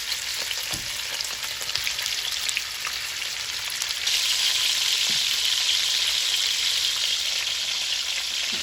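Short ribs browning in a Dutch oven, a steady, close frying sizzle with faint crackles that grows brighter and louder partway through and then holds as a constant hiss.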